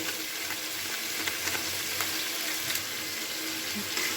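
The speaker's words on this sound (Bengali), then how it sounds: "এবার খুব ভালো করে মশলাটাকে কষিয়ে নেব" Ground spice masala with salt, turmeric, chilli and cumin powder fries in a pan for a prawn and taro stolon curry, giving a steady close sizzle with light scraping, alone without speech.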